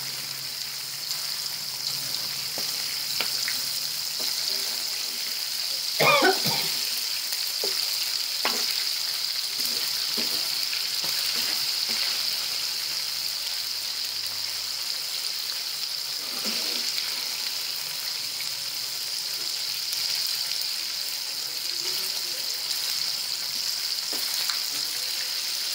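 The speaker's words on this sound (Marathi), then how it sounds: "झाले कोळंबी फ्राय करून, आता काढून घेते." Prawns fry in hot oil with a steady close sizzle, broken by occasional louder crackles and stirring clatters as the pieces are turned in the pan.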